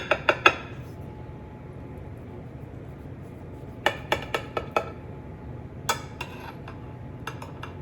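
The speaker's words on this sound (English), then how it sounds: "The cake is still very hot, but I'm gonna cut a slice to show you." A knife cuts a slice from a hot oat cake, giving sharp clinks and taps of metal on a dish in three short bursts of quick strikes separated by quiet, close and fairly crisp.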